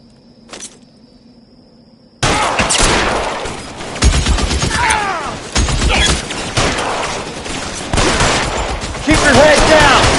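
Heavy gunfire in L.A. Noire breaks out after a quiet moment and keeps up as a dense, loud barrage of rapid shots, with shouting voices mixed in.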